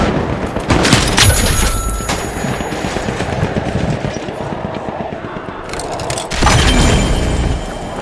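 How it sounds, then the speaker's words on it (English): A frag grenade blast in a video game lands amid continuous rapid gunfire, with dense crackling bursts and a heavy boom swelling near the end, loud and close. "Frag grenade out."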